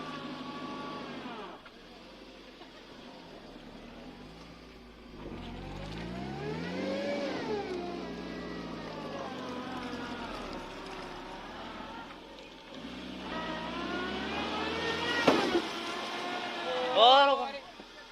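Tractor engine revving hard while stuck on a muddy road, the drone rising and falling in long strained surges with louder bursts near the end, while people shout directions over it.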